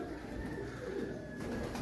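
Pigeons in a loft coo in a low, continuous murmur with steady background hum, no voices present.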